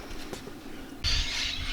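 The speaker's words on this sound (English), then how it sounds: "There's birds tweeting, which is fabulous noise." Birds chirp in the background around a van parked on an Australian road trip. There are a few faint high calls early on, then a bright burst of twittering in the second half.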